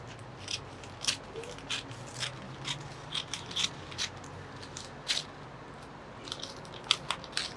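Scissors cut fabric for a pencil skirt in a tailoring class, giving a steady series of crisp snips and crunches at close range, about two each second, with no talking.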